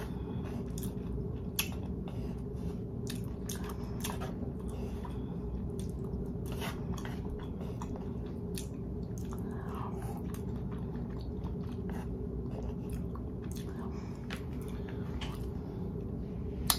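Someone eating potstickers, close wet chewing and soft biting sounds repeating steadily over a constant background hum, no talking.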